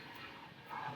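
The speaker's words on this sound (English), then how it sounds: "So many airplanes for you" An airplane overhead gives a brief, low, rumbling engine drone, faint and distant, swelling slightly toward the end.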